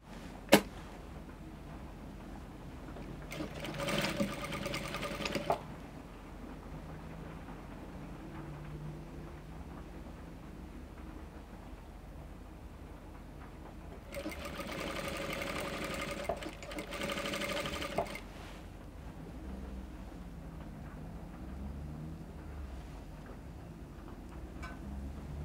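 A sewing machine stitching fabric for a kimono dress: two steady runs of rapid mechanical whirring, each a few seconds long, separated by quieter room noise, close and moderately loud with no talking.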